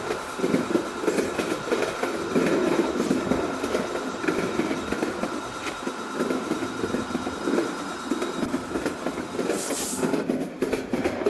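A Bangladeshi passenger train in the Train Simulator Bangladesh game rolls along with a continuous loud rumble and clattering wheels on track, steady throughout with a brief hiss near the end.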